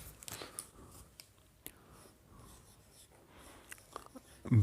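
A marker writes on a whiteboard during a lecture, with faint intermittent squeaks and scratchy strokes, short pauses between them and a louder bump at the end.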